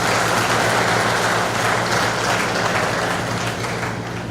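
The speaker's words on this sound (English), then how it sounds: "please give a big round of applause to all the teachers." Sustained, dense applause from a large audience for teachers at an engineering institute's student orientation, a steady, even roar of many hands with no pauses.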